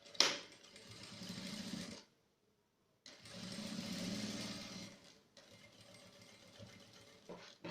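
Sewing machine backstitching while making a fabric phone wallet, a fast mechanical whirring run that pauses for a second, then resumes in two more bursts, close and fairly quiet with a brief click at the end.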